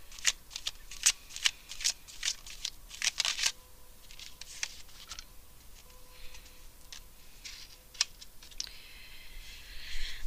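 Tarot cards being shuffled by hand at close range, a run of quick crisp riffles and soft flicks in irregular bursts with brief pauses, no voice.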